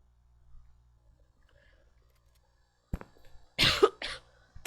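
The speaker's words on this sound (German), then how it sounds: "Falls man das Husten eben überhaupt im Stream gehört hat" A live game streamer coughs a few times close to the microphone, sharp harsh bursts clustered near the end after mostly quiet moments with faint background sound.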